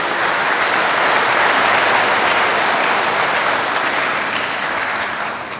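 An audience at a Tainan police event applauds in a loud, sustained wash of clapping from many hands, holding steady for several seconds before easing slightly at the end.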